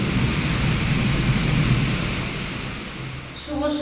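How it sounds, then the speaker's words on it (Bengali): Heavy rain pours outside in a dense, steady hiss that eases slightly toward the end, with a low rumbling undertone. "বাইরে তো আজকে প্রচণ্ড বৃষ্টি হচ্ছে"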